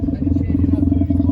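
Tesla at a cars-and-coffee meet pulling away while playing a simulated exhaust note through a speaker, a low, steady throbbing rumble close by, with voices talking over it.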